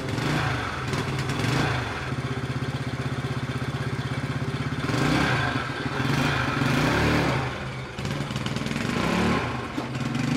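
A faulty motorcycle engine with a suspected carburetor diaphragm problem idles unevenly, with a rough pulsing rumble and several surging revs, heard close and alone.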